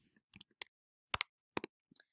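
Calculator buttons pressed in short bursts of crisp plastic clicks, about a dozen taps in quick pairs and clusters, close and clear with no talking.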